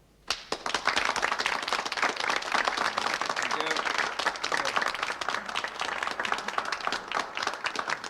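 Sustained, dense applause from an audience at an election meeting for a Labour candidate in West Barsetshire, breaking out suddenly after a brief quiet start and holding steady and loud to the end.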